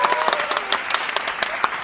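Applause effect, dense patter of clapping with sharper individual claps poking through, steady and fairly loud for under two seconds.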